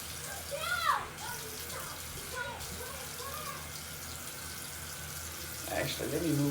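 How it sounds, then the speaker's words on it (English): Tap water splashing as hands scoop it up to wet a face during a morning skincare routine, a soft continuous trickle with brief splashes near the start and end. "the first thing I do in the morning is I wet my face using my hands"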